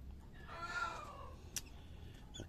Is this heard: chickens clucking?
yes